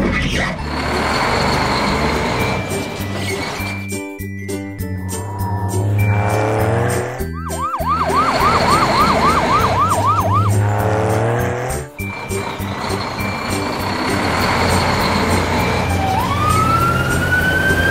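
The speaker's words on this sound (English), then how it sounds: "Hey, tow truck!" Siren of a cartoon tow truck in an animated children's scene, a loud wailing siren that rises and falls in quick repeated sweeps mid-clip, set among engine and car sounds with sharp breaks and a final rising whistle-like tone.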